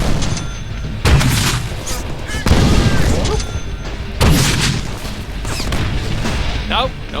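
Explosions in the Deadpool video game: several loud booming blasts at roughly even intervals, each a sharp broadband burst that rings out over game sound and effects.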